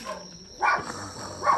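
A dog gives two short, fairly faint barks about a second apart, each a brief yelp rising over quiet room noise.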